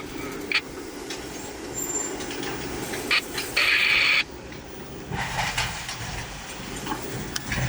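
Loud rumbling and clanking of a railroad tie replacement train working nearby, pulling ties off the track, with intermittent metallic hisses and squeals over a steady mechanical drone, in Plant City, Florida.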